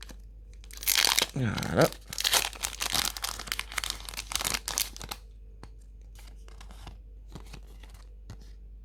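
A Pokémon Genesect booster pack is torn open, with a loud crinkling rip of foil wrapping and a sustained rustle of handled plastic and cards, followed by quieter crinkles while a voice speaks briefly.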